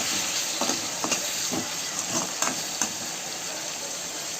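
Tomatoes frying with softened onions for Tamil vada curry, a steady close sizzle broken by several light scraping stirs at irregular intervals, with no talking.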